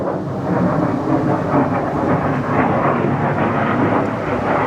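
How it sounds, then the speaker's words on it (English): A loud, continuous roar of military jet aircraft passing overhead, rumbling steadily without letting up. "Oh, I can hear military planes."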